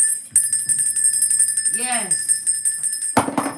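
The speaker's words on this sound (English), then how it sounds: "The bell of infinite possibility has been rang" A small bell rings with a high, shimmering tone that lingers throughout. A voice speaks briefly over it, and a louder clatter comes near the end.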